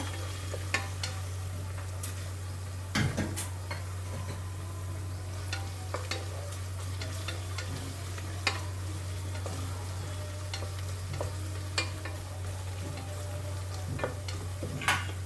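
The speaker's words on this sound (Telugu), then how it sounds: "అల్లం వెల్లుల్లి పేస్ట్ వేసిన తర్వాత కొంచెం బాగా వేగిన తర్వాత" Ginger garlic paste frying in a pan, a continuous faint sizzle with frequent sharp ticks and clinks of a spoon scraping and stirring, over a steady low hum.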